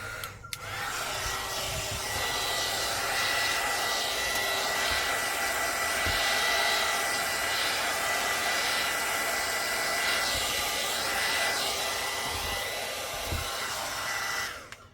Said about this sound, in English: Let me use my heating tool real quick.